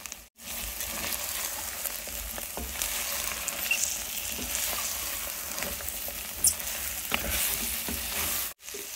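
Mixed vegetables tipped into a hot frying pan with dry ginger powder spice, crackling and hissing continuously with scattered stirring scrapes throughout, no talk.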